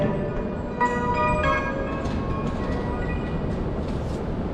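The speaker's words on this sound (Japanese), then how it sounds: "12番線からはやぶさ150号東京行きが発車いたします。" A bright chime melody rings out at Hachinohe Station's platform 12 over a steady low rumble, signalling the departing Hayabusa 150 Shinkansen bullet train to Tokyo.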